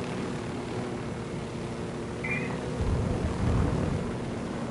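A helicopter in the video game Ghost Recon drones with a low, steady engine rumble that swells slightly louder toward the end, with no talk over it.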